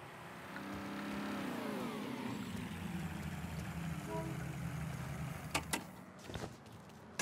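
A car engine in the video game Mafia III rises steadily from idle into a sustained revving drone, with a few brief sharp clicks and bangs near the end.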